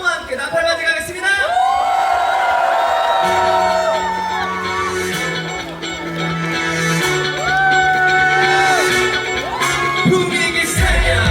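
A festival concert crowd at an outdoor lotus festival cheering and shouting, loud and continuous, mixed with a singer's voice and band music starting up.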